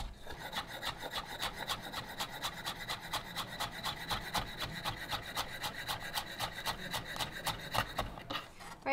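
Sharp knife slicing fresh herbs on a cutting board in quick, steady rasping strokes, a crisp rhythmic scraping that is close and moderately quiet, with no talking.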